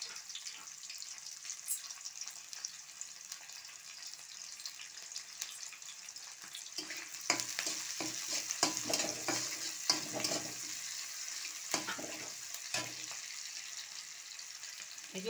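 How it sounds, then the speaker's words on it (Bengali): Onion dropped into hot oil in a home kitchen sizzles and crackles steadily, growing louder with stirring partway through, alone at close range. "এই যে আমার তেলটা হয়ে গিয়েছে, এখন আমি প্রথমে পেঁয়াজ দিয়ে দিচ্ছি।"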